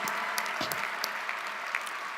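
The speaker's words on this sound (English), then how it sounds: "So give yourselves another round of applause" Audience applause at a college commencement ceremony, a steady wash of clapping from a large crowd throughout, with a few sharper individual claps and cheers standing out.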